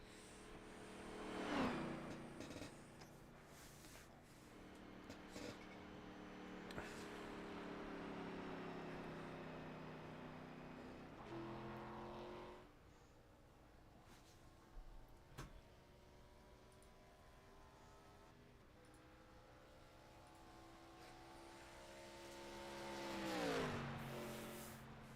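A stock-car racing video game at Kansas with a car running ARCA series qualifying laps. The engine note is faint and rises and falls as it accelerates, shifts and fades again through the laps, with no talking.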